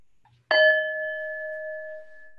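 A mindfulness bell is struck once to close a meditation practice, ringing out clear and near before its pure tone fades slowly into near silence.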